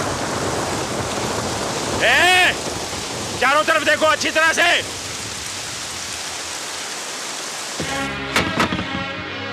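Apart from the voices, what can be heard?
rain falling with thunder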